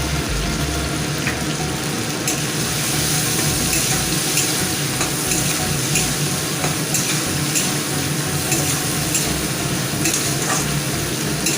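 Prawns fry in a pan with ginger-garlic paste, giving a constant close sizzle and crackle with occasional stirring scrapes, steady throughout with no talking.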